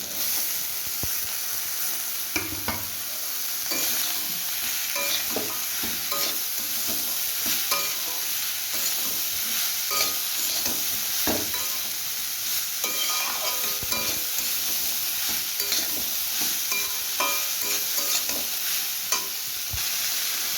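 Papaya pieces go into spices frying in a pan for a vegetarian papaya ghonto, with continuous sizzling and repeated scraping stirs close up, no talking.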